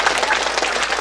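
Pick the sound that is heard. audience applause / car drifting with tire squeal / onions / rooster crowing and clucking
audience applause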